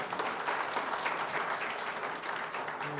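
Sustained applause from an audience at a political speech on balanced national development, steady and dense throughout with a brief voice near the end.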